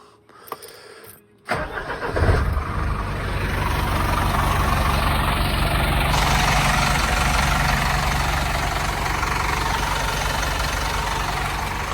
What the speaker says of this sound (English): So I'll go ahead and start the engine.